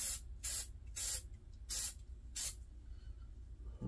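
Hornady One Shot aerosol sprayed into the action of a Remington 1100 shotgun: five short, sharp hissing bursts in a steady rhythm, close and loud, then quiet.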